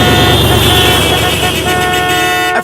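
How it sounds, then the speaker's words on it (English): Car horns blare loudly and continuously in traffic on a road trip, overlapping tones held for over two seconds before cutting off abruptly. "everyone was honking at us"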